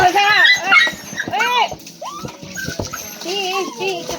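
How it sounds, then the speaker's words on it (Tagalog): A dog whimpers and whines in a run of high, rising and falling cries during a bath, loud and close, with short pauses between the cries. "Kakaawa din si Pulgoso kasi umiiyak"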